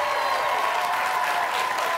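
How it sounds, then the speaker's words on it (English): Studio audience applause at a high school quiz show, a dense, sustained wash of clapping with crowd noise, steady and loud. "And again, more applause."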